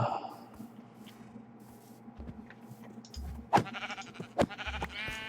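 Sheep in the video game Minecraft bleating a few times in short bursts near the end, over a quiet game background.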